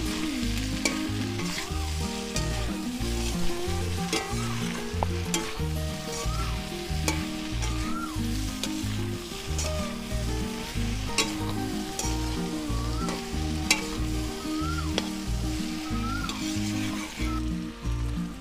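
Young jackfruit and prawn curry stirred in a hot pan with a pinch of salt, giving a loud continuous sizzle over rhythmic, repeated scraping strokes for a long stretch, with no talking.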